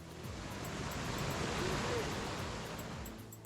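Steady broadband rush of Isuhu Falls, a waterfall on the Isuhu River in a Kenyan forest reserve, continuous and full throughout, with faint voices in the background.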